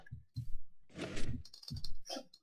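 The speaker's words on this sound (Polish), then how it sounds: "I teraz klikam przycisk." A button clicked in the Minecraft video game, followed by door-like thunks and clicks from a redstone mechanism, short separate sounds close and fairly quiet.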